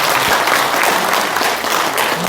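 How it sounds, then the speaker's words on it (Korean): An audience at a book launch on Korea–US relations claps during a plaque presentation, producing a loud, continuous burst of many hands that stays fairly even from start to finish. "네, 박수 부탁드리겠습니다"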